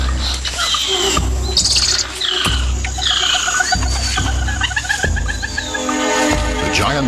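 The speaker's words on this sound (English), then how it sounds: "A squirrel monkey spots a harpy eagle and sounds the alarm, alerting everything in earshot." Squirrel monkey alarm call in the Amazon rainforest canopy on spotting a harpy eagle: rapid, high, chirping twitters repeat over dense jungle ambience, loud and close, with bursts of squeaky calls throughout.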